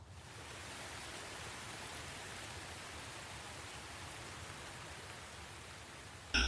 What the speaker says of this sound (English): The first rains of the season began to fall on the steppe, washing away the dry dust of the hot months.